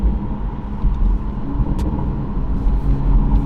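A Toyota A90 Supra driving after an oil change, a steady loud low engine rumble with road noise, close and continuous.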